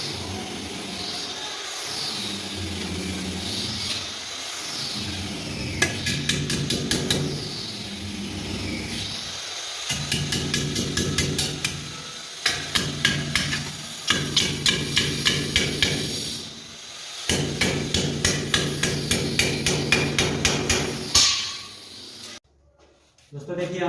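Hammering in metal ceiling channel fixings for a false ceiling frame: repeated sharp metallic strikes in quick runs of several blows, separated by pauses, with someone talking in between.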